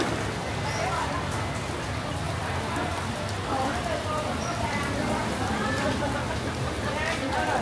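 Heavy rain pours steadily onto an outdoor market at Định Quán, Đồng Nai, a dense, unbroken hiss of drops that holds for the whole stretch, with faint crowd voices mixed underneath.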